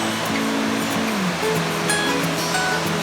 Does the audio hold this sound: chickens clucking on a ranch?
no